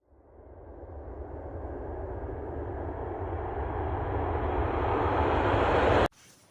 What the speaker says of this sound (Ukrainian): Та це ж звук літака.